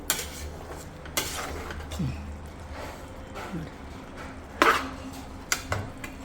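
Paneer biryani is stirred in a metal pot, with sporadic scraping and clinking of a spoon against the pot, a few sharp knocks, and someone talking quietly throughout.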